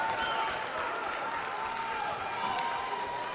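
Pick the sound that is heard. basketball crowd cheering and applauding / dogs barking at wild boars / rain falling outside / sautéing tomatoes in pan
basketball crowd cheering and applauding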